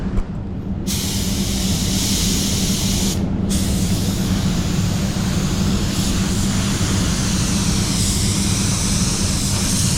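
A compact primer gun sprays a coat of primer in a loud, continuous, close hiss that keeps up without a break for about ten seconds, with no voices.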